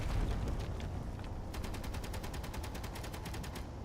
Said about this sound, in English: Little interior turrets putting in some work.